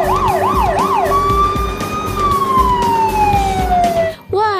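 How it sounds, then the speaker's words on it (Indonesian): Toy fire engine siren wailing loudly, shifting from a rapid warbling yelp to a long descending tone and then back to a warble, close by and continuous over faint background noise. "ada mobil pemadam kebakaran."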